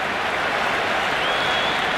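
Crowd at a cricket stadium during an England versus India T20 match, a dense continuous roar of cheering and clapping from the stands, loud and steady with no break.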